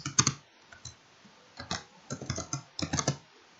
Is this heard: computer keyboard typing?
yes